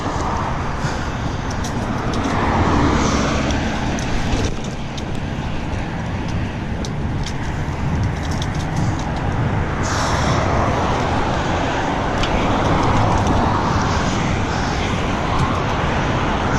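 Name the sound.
car passing a cyclist on the road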